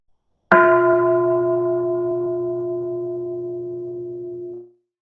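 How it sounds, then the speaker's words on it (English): One strike of a big meditation bell rings out alone, a clear resonant tone that hums steadily for about four seconds before cutting off. "let me do one sound of the big bell."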